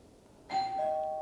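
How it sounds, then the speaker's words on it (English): A mechanical chime wired to a Blink video doorbell rings once during an installation test, giving a clear, close bell tone that rings on and fades slowly in a quiet room. "We have a mechanical chime."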